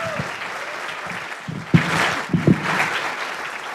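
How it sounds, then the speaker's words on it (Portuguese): An audience applauds a biographer after a talk at an academic event, sustained clapping from a seated crowd with a few louder close claps standing out in the middle. "Vamos aplaudir esse grande biógrafo"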